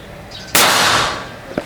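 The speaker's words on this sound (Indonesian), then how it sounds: "Ini karena nggak pakai peredam ya teman-teman, jadi 2 kali tembakan atau 3 kali tembakan" A single sharp, loud shot from an unsuppressed air rifle cracks and rings briefly, followed by a smaller click near the end.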